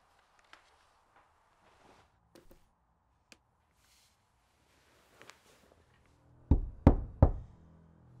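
A door is knocked on in a tense suspense short: scattered faint taps and small noises, then three loud, close, heavy knocks in quick succession near the end.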